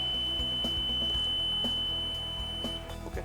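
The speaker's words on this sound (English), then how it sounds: "Beep sound is heard." An electronic voting machine emits a steady, sustained electronic beep tone that holds loud and unbroken for several seconds, with faint pulsing clicks underneath.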